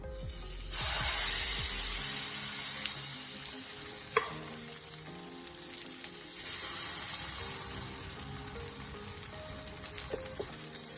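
Pancake batter sizzles in a hot pan greased with a little ghee over a low flame, giving a continuous close hiss and crackle with occasional clinks and small pops.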